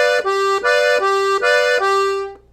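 A piano accordion plays a Brazilian forró groove, bright reedy chords pulsing in a steady syncopated pattern of repeated bursts, close and loud, ending as the last chord fades out.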